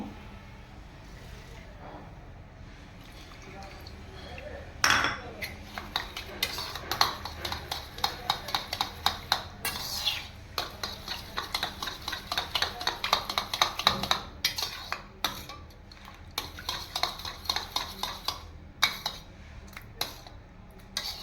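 A spoon beats curd with a splash of water in a large bowl for fish kalia, making rapid, repeated clinks and taps that start after a quiet opening and continue steadily, close to the listener.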